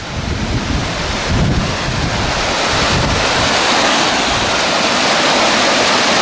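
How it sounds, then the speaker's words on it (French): Steady, broadband rush of water pouring over rocks nearby, continuous and loud with no pauses, like a small cascade heard close up. "Une petite cascade là."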